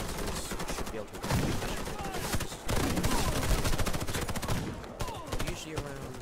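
Rapid automatic gunfire from the online shooter Warface, dense bursts of shots cracking almost continuously, loud and close, with brief gaps between volleys.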